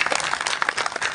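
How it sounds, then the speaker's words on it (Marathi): A brief burst of dense audience clapping at a Marathi kirtan gathering, loud and close throughout. "सर्वप्रथम त्या पिक्चरचा आपण जरा टाळ्या वाजवूया"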